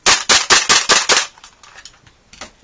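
A WE Tech M4 gas blowback airsoft rifle fires about six sharp, loud, rapid shots close by, then the bolt locks back on empty, followed by faint mechanical clicks and rattles.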